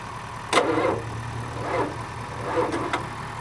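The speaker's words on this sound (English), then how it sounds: "If I short that out, she cranks." An old dump truck engine cranks over through a shorted starter solenoid, a sharp click followed by three rough, labored turning bursts over a low steady hum, close and moderately loud.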